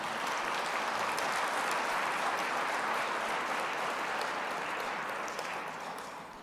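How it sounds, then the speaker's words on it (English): A crowd claps for awardees at an agriculture address, a loud, dense round of applause that holds steady before tapering off toward the end. "let's give him and all their awardees today another round of applause"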